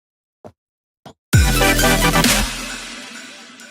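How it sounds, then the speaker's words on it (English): Two brief soft clicks, then a full future bass synth chord bursts in with deep bass and a muffled, darkened tone from a low-pass filter that gradually decays. "I'll just go to the love filter and I'll engage the low pass by doing this."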